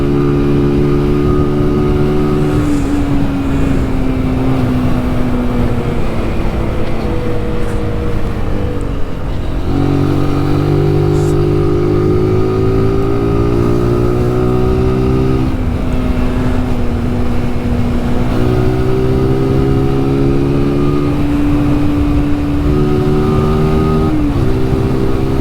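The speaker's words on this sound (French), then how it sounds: "donc il y a un peu des voitures, un peu des motos, il y a un peu de tout." Cars and motorcycles pass one after another on the mountain road of the Col de l'Espigoulier, their engines loud and close, with rising and falling pitch as vehicles approach, accelerate and move away throughout.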